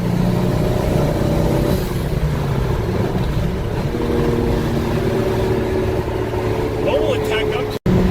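A fast car that pulls like an old Supra roars with a steady, loud engine drone that holds high revs throughout, close and sustained, with voices talking over it.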